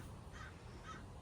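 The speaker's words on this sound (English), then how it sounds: "I've got an audience of crows in the neighborhood" Crows caw twice in a residential neighborhood, two brief, faint calls from some distance over a quiet background.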